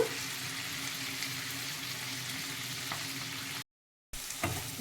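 Carrot and mint frying in a rice cooker for bagara rice, a steady close hiss and crackle with light stirring scrapes, briefly cut to silence near the end before the sizzling resumes.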